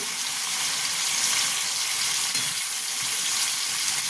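Potatoes, carrots, beans and papaya sautéing in a hot pan for chicken stew, a steady, loud broadband sizzle hissing without pause, close up and with no talk.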